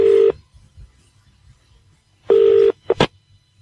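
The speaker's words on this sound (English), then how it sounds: "So let's give it a dial up and see how we go here." A landline telephone number being dialed, with two clear keypad tone bursts and a quick double tone near the end, loud and close with no talk.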